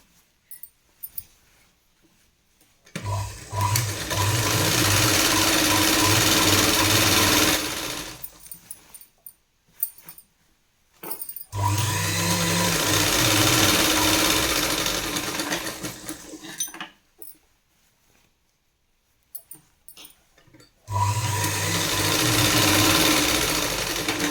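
Sewing machine running in bursts while stitching a seam on a ready-made kurti, three long loud whirring runs separated by silent pauses, close and alone.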